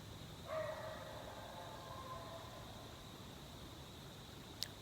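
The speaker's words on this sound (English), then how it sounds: "Stupid dog barking." A dog barks faintly in the distance in the woods during an opening-weekend deer hunt, with a brief burst of yapping early on and then quiet, hissy outdoor air.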